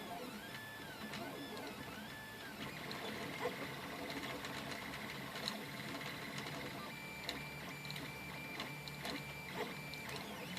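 A 3D printer printing onto a frosted glass bed at 80 mm/s, quiet continuous stepper-motor whirring with shifting tones and small clicks, faint and steady.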